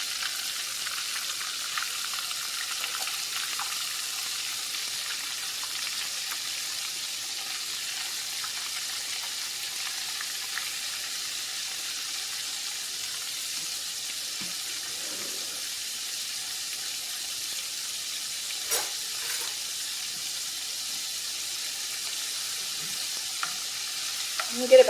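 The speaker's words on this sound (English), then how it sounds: "start the steak frying. I got a lot of oil in here" Soft, continuous sizzle of steak frying in a lot of hot oil, nearly deep frying, low and steady, with occasional faint clinks and kitchen noises.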